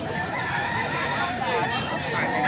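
Bull stag roosters crow at a wet poultry market in Angeles, Pampanga, the calls blended into a steady crowd of birds with voices mixed in throughout.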